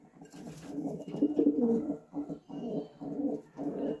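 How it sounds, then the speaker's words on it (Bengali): A newly paired couple of golden highflyer pigeons coo softly nearby in repeated throaty phrases, with brief pauses between them. "গোল্ডেন কবুতর"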